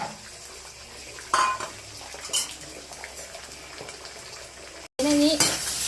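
Beaten egg fries in coconut oil, a soft steady sizzle broken by the clink and scrape of a utensil stirring it in the pan, heard up close.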